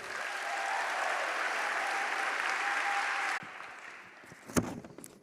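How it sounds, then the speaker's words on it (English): A morning talk audience gives steady, full applause for a speaker for several seconds, which then cuts off into a quieter room with a few stray sharp knocks. "Can we give a round of applause for Myra?"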